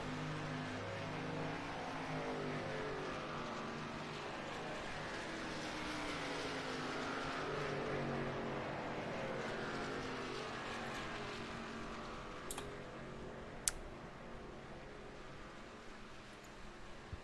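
Race cars drone behind the pace car at Talladega Superspeedway in a racing video game, a steady layered engine hum with no speech and only a couple of faint clicks late on.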